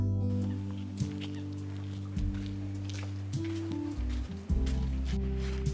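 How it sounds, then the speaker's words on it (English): Baby water birds call to their parents in a city setting in Lille, France, with repeated short peeping calls over a constant low droning background hum, several chirps scattered through the scene. "there's so many cute little water birds, just little baby ones screeching around, doing those little like contact calls to their parents"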